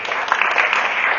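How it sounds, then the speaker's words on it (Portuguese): Congregation applause during a Catholic sermon: a short, dense burst of many people clapping together, steady and fairly loud, with no voices heard. "E quem acredita, dá uma salva de palmas para Jesus."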